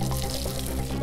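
Water gushes and splashes steadily in an animated children's cartoon, a short, continuous running-water sound with no talking over it.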